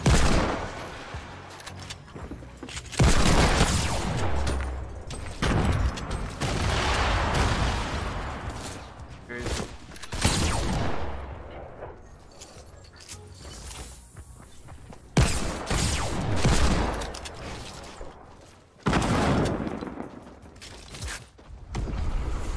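Fortnite gunfire with sharp sniper shots in bursts, loud and close, separated by short quieter gaps across the clip.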